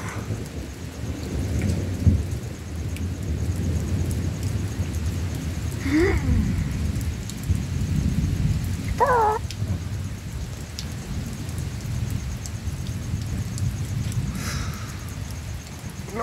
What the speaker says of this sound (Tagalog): mas maganda talaga yung ganito na paliguan ko siya ng ulan at saka ganito pa kulog